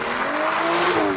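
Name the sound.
Aston Martin DBS driving in track mode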